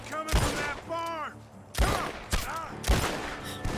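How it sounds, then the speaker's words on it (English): Gunfire from a barn in Red Dead Redemption 2, a few sharp loud shots spaced through the moment, with voices speaking between the reports. "The gunshots are coming from that barn."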